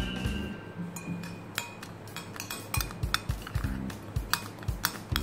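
Bread crumbs mixed with chili, coriander, cumin and meat spice powders in a bowl, a run of light clinks and taps of a utensil against the bowl, close and quickening toward the end.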